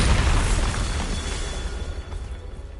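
Explosive spells cast in the fantasy game Hogwarts Legacy, a loud booming blast that rolls and fades over a few seconds.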